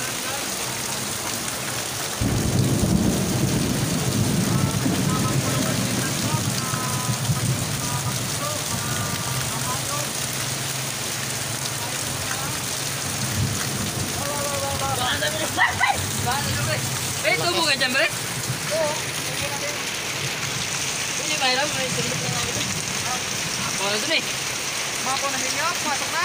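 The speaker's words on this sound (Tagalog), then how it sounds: "Pero grabe yung ulan guys." Heavy rain pours steadily on a road in Tagaytay, a dense hiss under a person talking throughout, with no clear thunder standing out.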